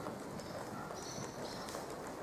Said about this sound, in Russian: Вот лошадь у нас бежит с вами рысью, спокойно, ровно, четко, не мотая головой.